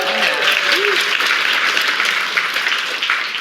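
Studio audience applause at a live daytime television talk show, a dense sustained wash of many hands clapping, fairly loud and steady throughout with no talk over it.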